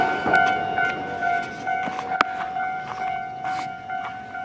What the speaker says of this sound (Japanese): あ、今のは違う電車っすね。